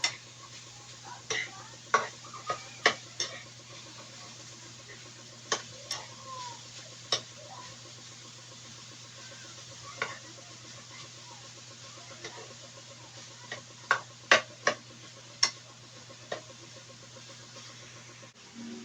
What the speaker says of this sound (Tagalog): Ihahalo po natin ang giniling sa kangkong.